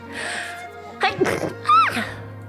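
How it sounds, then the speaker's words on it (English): A single sudden sneeze right up close to a streamer's microphone: a quick sharp intake and burst, then a short voiced after-sound, loud against a steady low background hum. "I sneezed."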